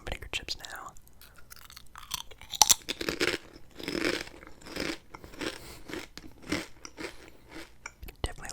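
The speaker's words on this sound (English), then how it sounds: "Definitely a little bit more of a vicious chip crunch there." Salt and vinegar potato chips crunched close to the mic, with repeated sharp crunches and steady chewing throughout, no talking.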